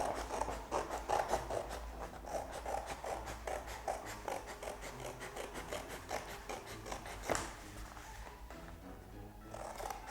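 Scissors cut through paper strips for mask making, a steady run of quiet, close snips and rustles with no talking.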